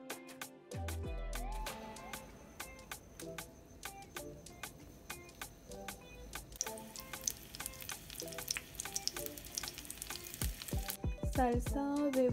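A hamburger patty frying in a pan, steady sizzling close by that grows busier and louder, with crackling pops and occasional clicks.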